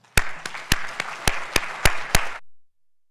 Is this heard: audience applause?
yes